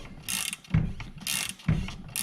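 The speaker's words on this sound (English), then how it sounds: "I couldn't get the ratcheting wrench in there at first" Ratcheting wrench loosening a rear shock bolt on a 2017 Ford Escape, with loud, close bursts of rapid clicking in a repeating back-and-forth rhythm and short pauses between strokes.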